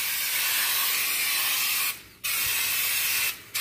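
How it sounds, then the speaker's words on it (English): Aerosol can of wall texture spraying in a long, loud, continuous hiss, cut by two brief pauses, close by and with no voices. "Spray it from about 12 inches away."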